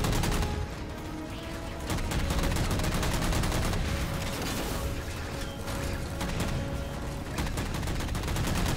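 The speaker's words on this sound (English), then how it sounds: "What was just shooting at me over here?" Dense, continuous Halo 4 gunfire: rapid automatic shots rattle without pause, loud and close, with mechanical clatter layered through the barrage.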